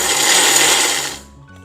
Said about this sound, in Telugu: ఇలా వేయించుకున్న నువ్వులు పల్లీలని మిక్సీ జార్లో వేసేద్దాం.